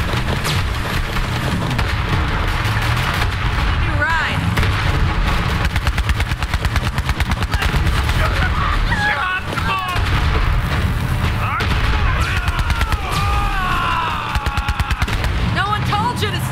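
Rockets and gunfire in the video game Borderlands 3, a dense stream of rapid booms and blasts rolling continuously under a voice.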